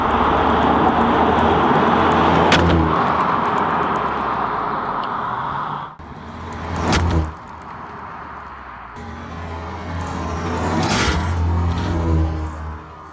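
A car rolls slowly over an iPhone 6S and a Samsung Galaxy S6 Edge laid on pavement, its engine rumbling low and steady with a sharp crunch near the start and again toward the end.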